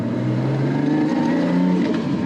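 A Nissan R32 Skyline GT-R with a Garrett G45-1500 turbo on an RB32 engine, revs dropping off as it eases into a roundabout; a steady, close engine drone sliding slightly lower in pitch throughout.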